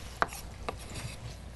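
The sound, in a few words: chopping vegetables with a knife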